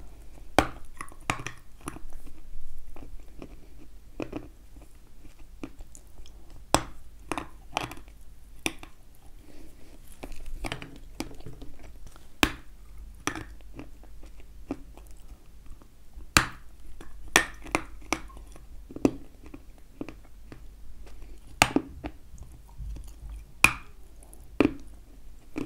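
Dense Kyrgyz cheese being chewed up close, a quiet series of sharp crisp crunches and clicks coming irregularly over a long stretch, separated by near silence.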